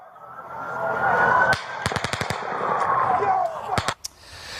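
Sharp gunshots crack out in quick bursts, several rapid shots in a row followed by a couple more, over shouting voices and commotion.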